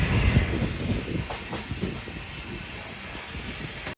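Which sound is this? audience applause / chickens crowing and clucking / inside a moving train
inside a moving train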